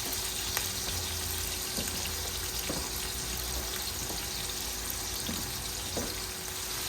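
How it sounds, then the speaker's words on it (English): Onion sautéing in a pan for a tomato stew gives a steady, loud sizzle that fills the whole stretch, with occasional soft knocks from the pan or utensil. "I'm going to allow the onion to saute for some few minutes."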